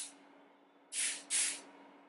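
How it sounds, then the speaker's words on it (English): A raspberry room spray is pumped twice in quick succession, two short close hissing bursts after a quiet pause, with no voices. "You just need a couple of sprays of this room spray in your room"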